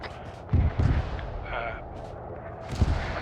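Mortar artillery fire in the military game Arma 3 sounds as several deep, booming thuds, two close together early and another later, over a low rumbling background with faint voices.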